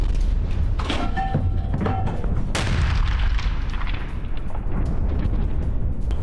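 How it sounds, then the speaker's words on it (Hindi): Russian howitzer artillery shelling near Orikhiv: sharp heavy booms, one standing out strongly, followed by rumbling decay and crackling at a distance, no voices. "ओरेखोव में रूस के आर्टिलरी हमले, मास्टर बी होवित्जर से रूसी गोलाबारी"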